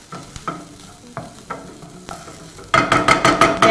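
Onions caramelize and fry in a pan for a beef stroganoff, a crackling sizzle broken by periodic stirring knocks that grows louder and busier near the end, close up.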